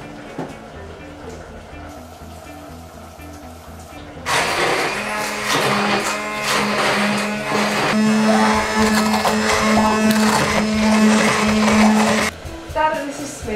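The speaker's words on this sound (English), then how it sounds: "pureeing it with a hand blender until smooth" Quiet at first, then a hand blender whirs loudly and steadily for several seconds, pureeing peas with yoghurt, before cutting off near the end.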